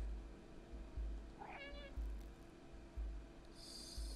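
A game cat gives one short meow in the video game Stray over a continuous low hum and regular soft thumps of the game soundtrack.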